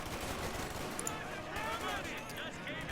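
Gunfire on grenadiers in the Company of Heroes 2 real-time strategy game, rapid continuous small-arms fire at a moderate distance, heard under a commentator's voice.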